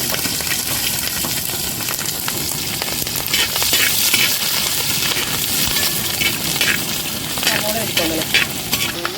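Chopped green chili, ginger and garlic fry in a pan with a loud, steady sizzle and bursts of stirring, while a voice briefly speaks near the end.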